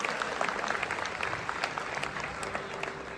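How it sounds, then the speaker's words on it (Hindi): Audience applause after a student dance performance at a university campus event: steady, dense clapping from a crowd throughout, fairly distant and even. "आप सबकी जोरदार तालियां हो जाए"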